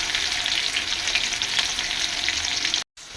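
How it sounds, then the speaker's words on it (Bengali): Potatoes fry in hot oil with a steady, dense sizzle that runs almost without pause, close up and loud, cutting out briefly near the end; no talking. "এবার আমি তেল দিয়ে দিচ্ছি, আলুগুলো ভেজে নেব।"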